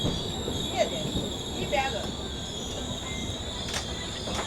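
The 12078 Vijayawada–Chennai Central Jan Shatabdi Express pulls into Sullurpeta railway station. Its wheels squeal, with high steady screeches and a rumbling rolling carriage underneath, heard from on board at a fairly close, constant level.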